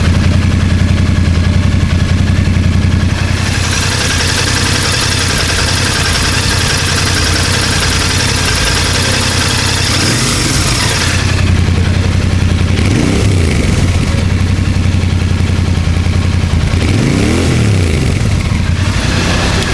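A Royal Enfield Bear 650 twin-cylinder motorcycle idles loud and close, a steady throbbing rumble with a couple of brief throttle swells.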